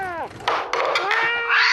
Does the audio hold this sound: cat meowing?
yes